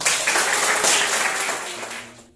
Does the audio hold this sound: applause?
yes